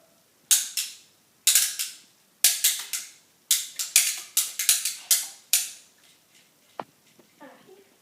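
Kids firing loom bands from a Bowslinger toy at targets set about nine to ten feet away: a quick series of sharp snapping twangs, some single and some in fast clusters, then a brief faint clatter as the shooting stops.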